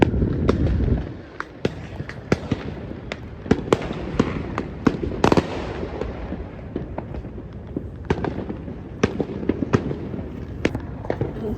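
Fireworks go off on Fireworks day, a scatter of sharp cracks and pops at varying distances over a continuous rumbling background, with irregular bursts throughout.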